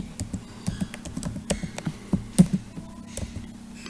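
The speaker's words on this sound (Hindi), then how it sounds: "सपोज हमने टाइप कर लिया रणवीर।" Fingers typing on a computer keyboard while entering employee data into a MySQL table, a steady run of light, close key clicks with a few louder taps and no talk.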